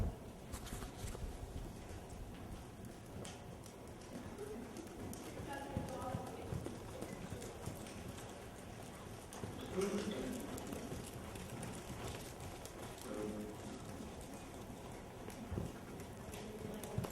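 Horses trot during a riding lesson, with rhythmic clip-clop of hooves on the ground running under an instructor's voice calling to the riders throughout.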